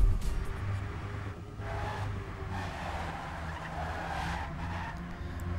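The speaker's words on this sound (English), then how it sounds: "All players making the first drift." Tires skidding and squealing as cars drift in a racing video game, a sustained screech with engine drone rising and falling over several seconds.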